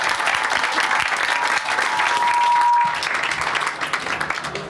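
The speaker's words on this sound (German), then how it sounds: "erstmal einen Applaus" Sustained applause from an audience at a podcast event, a dense steady patter of many hands clapping that swells briefly and then thins toward the end.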